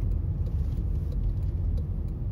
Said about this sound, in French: C'est assez sonore à l'accélération.